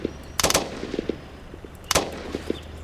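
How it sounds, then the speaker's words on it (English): Gunfire in the Roblox Blackhawk Rescue Mission game: two sharp loud bursts of rapid shots about a second and a half apart, with fainter scattered pops in between over a low hum. "I heard a shot somewhere."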